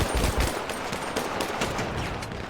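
Bursts of automatic gunfire in a GTA roleplay video game, dense and continuous with several overlapping weapons firing in rapid rhythm, loud throughout with no talk.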